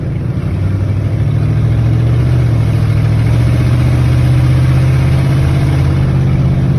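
A 1995 Ford F-250 pickup truck engine idles loud and close, with a deep, throbbing low rumble and no talking.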